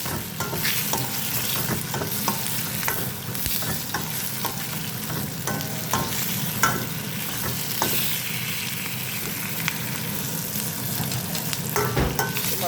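Tomatoes and almonds sauté in a pan with a constant oily sizzle, broken by frequent spoon scrapes and stirring taps throughout, close and with no talking.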